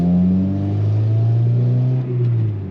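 A 2006 Honda Civic Si with its exhaust baffle removed revs loudly up close, a deep, droning engine note holding steady with a brief dip near the end.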